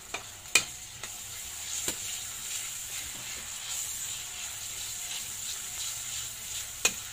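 Tomatoes sautéing in a pan over a gas burner, a soft steady sizzle broken by a few sharp clicks and scrapes of a utensil stirring.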